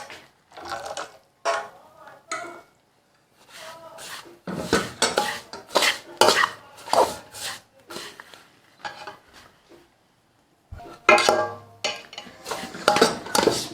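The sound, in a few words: stirring suji halwa in a pot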